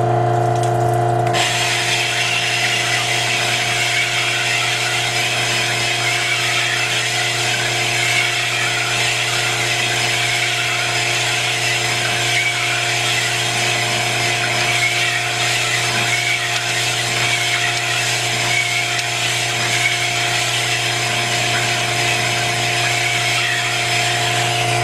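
A cylinder of a Jeep AMC 258 engine is honed with oiled stones, a steady whirring, grinding hum with constant tones running on evenly without pause, alone and fairly loud.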